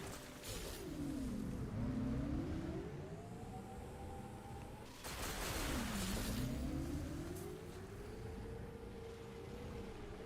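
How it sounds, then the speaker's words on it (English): Motorcycle engine in the video game Metroid Prime 4, revving loudly in two long swells, its pitch dipping and then climbing again each time, with no talking. "It's not the most intuitive motorcycle."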